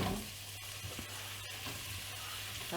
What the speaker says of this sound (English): That is a perfect onion going into a pan sizzle.